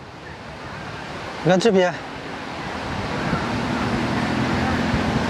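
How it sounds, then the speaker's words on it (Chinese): Strong wind and big waves roll in at the Qinhuangdao seaside bathing beach. A steady, roaring surf-and-wind noise fills the scene, and a voice speaks briefly over it near the start. "今天风很大，浪也很大呀，好多人还在游泳。"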